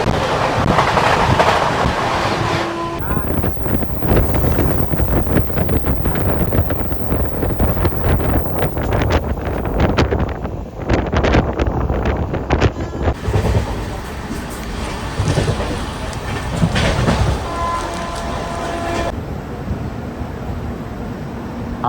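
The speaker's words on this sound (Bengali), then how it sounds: "এবার আসছে অবাধ আসাম এক্সপ্রেস" The Avadh Assam Express rolls in with a loud, steady rumble of wheels and carriages that lasts throughout, while heavy wind buffets the microphone.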